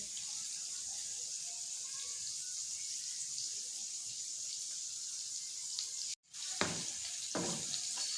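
Onions fry in hot oil in a pan for a dhaba-style masala moong dal, making a continuous loud sizzle. After a brief break, cumin goes in and sharper crackling bursts follow.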